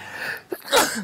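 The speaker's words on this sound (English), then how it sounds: "It's a big sneeze." A single big sneeze from a man during an interview, a short intake followed by a loud burst, heard close against a steady room-noise background with no talking over it.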